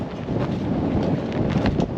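Gusty wind buffets the outside of a van in a steady, loud broadband roar with no clear pauses, heard close to the microphone.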